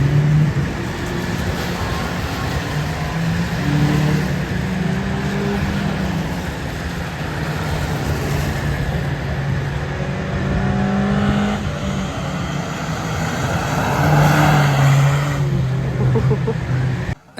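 Race cars lapping Cowdenbeath Racewall on a wet track in poor weather, a continuous loud engine drone with rising and falling revs and tones shifting as cars pass, steady throughout with no talking.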